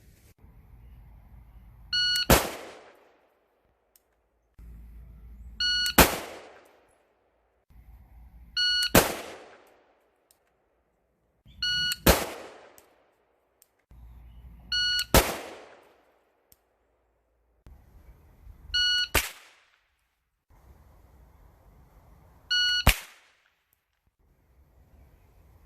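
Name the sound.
shot timer beeps and AR22 and AR15 rifle shots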